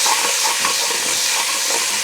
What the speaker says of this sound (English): Get in there and scrape them with your spoon.